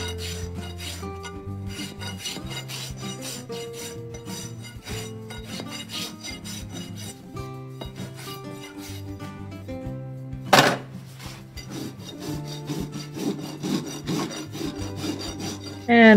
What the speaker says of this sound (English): There's some more rasping.